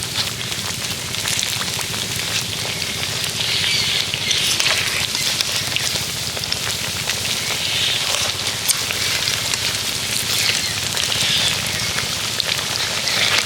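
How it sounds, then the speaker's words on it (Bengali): A potato and flour snack fries in hot oil in a wok, giving a dense, even sizzle that runs without a break and without talk. "মোটামুটি দুটো দিক ভালো করে ভেজে নেব"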